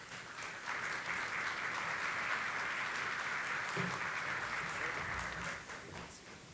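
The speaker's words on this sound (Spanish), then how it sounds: "el senador Kenneth Pugh, a quien recibimos con un fuerte aplauso." An audience at a mining trade fair panel on cybersecurity applauds to welcome a moderator: a broad, steady wash of clapping from a large crowd that swells in, holds evenly for several seconds, then tapers off.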